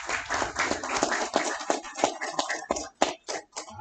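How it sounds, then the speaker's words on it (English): Audience applause at a barber bootcamp graduation ceremony, a dense burst of clapping from a crowd that thins into scattered, separate claps near the end. "Give yourselves a round of applause for coming out."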